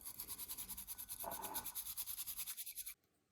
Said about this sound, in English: to whisking your matcha, you will want to do it back and forth motion